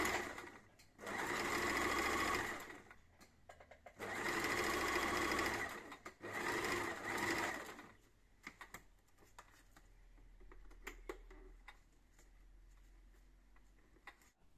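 A sewing machine stitches a 1 cm seam in fabric, running in three loud close bursts of rapid whirring stitches separated by pauses, then quieter handling clicks and rustles.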